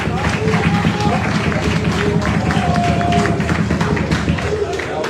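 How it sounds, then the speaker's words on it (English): A crowd at an APC political rally claps in a steady, rhythmic beat, mixed with crowd voices and chatter. "Clap, clap, clap, clap."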